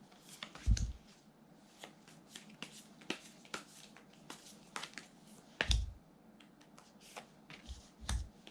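Tarot cards are shuffled by hand at close range in quick flicking riffles and light slaps, with a few heavier thumps as the deck is tapped down, quiet and unaccompanied by talk.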